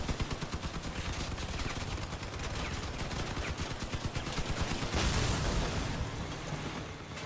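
Vehicle-mounted weapons in the combat game Crossout fire a sustained, rapid automatic barrage, loud and close, with booming impacts swelling near the end.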